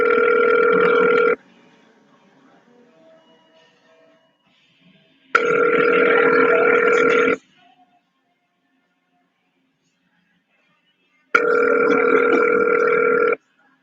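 A telephone ringback tone sounds while a call is transferred: three loud, even rings of about two seconds each, separated by roughly four seconds of near silence with faint line noise.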